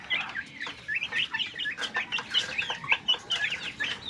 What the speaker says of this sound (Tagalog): Ito sila, mga heritage chicken po. Bird plymouth rock at saka Rhode Island.